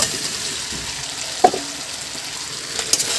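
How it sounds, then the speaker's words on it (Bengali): Taro pieces frying with spices in a pan, a steady soft sizzle throughout with a couple of brief stirring scrapes and clinks near the middle and end; no one speaks. "কচু আর মশলা ভালো করে মিশিয়ে একটু কষে নেব"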